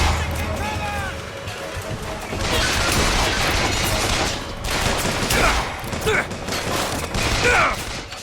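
Heavy explosive bursts and gunfire from BioShock Infinite combat, with loud booming blasts around the middle and end alongside rattling weapon fire, mixed under ongoing game noise.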